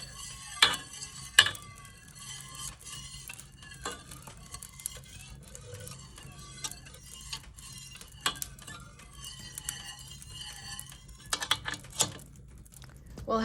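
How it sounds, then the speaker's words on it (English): A spoon stirring a thickening, glue-like mixture heating in a pot in a cottage kitchen, with soft scraping and irregular light clinks against the pot, close and quiet with no talking. "just supposed to kind of occasionally stir and heat it until it gets thicker or glue-like in texture"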